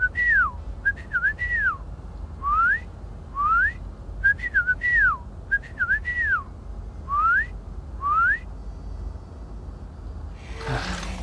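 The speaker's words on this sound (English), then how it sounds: "let's see if she still knows my whistle" Someone whistles a call in a video game, a string of about ten short, bright rising and falling whistles in an irregular rhythm, clear and fairly close, followed by a brief burst of noise at the end.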